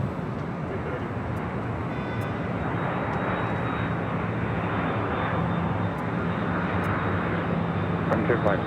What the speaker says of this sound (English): We do have the Qantas A330 up next for arrival.